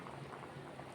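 Moong dal bubbling as it boils in a pot, a steady soft simmering hiss with faint popping bubbles throughout, close by and alone.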